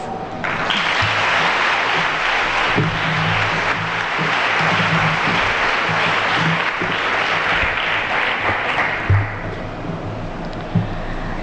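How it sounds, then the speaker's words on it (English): Sustained audience cheering and applause at a college event at St. Joseph's College, Irinjalakuda, loud and steady throughout with dense clapping, a few louder bursts near the end. "I'm sure you will all greet the superwoman to the microphone with a loud round of cheer and applause."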